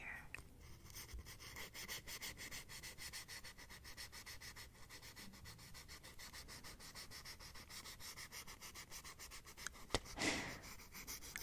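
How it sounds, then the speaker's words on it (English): A toothbrush scrubs teeth in a continuous soft, close rubbing and scratching rhythm, with a brief louder swish near the end and no talking. "See, brushing your teeth can be so much fun."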